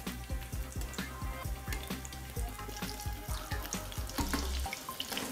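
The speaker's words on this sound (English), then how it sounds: "See how it's sizzling?" Turkish sigara böreği cheese rolls frying in hot oil give off a steady, close sizzle with a repeating low thumping pulse underneath.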